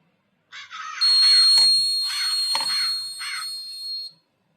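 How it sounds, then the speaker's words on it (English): A bird-scaring device's buzzer sounds alongside loud harsh crow-like caws in repeated bursts, with a steady high electronic tone running for about three seconds, close and fairly loud. "the buzzer is being ringing and the scare element started to move simultaneously"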